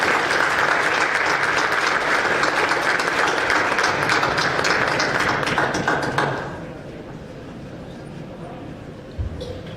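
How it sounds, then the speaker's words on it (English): Applause from attendees at a school board meeting honoring schools, a steady round of clapping for about six seconds that then drops off, leaving quieter room noise and a few stray sounds. "let's give them a nice round of applause"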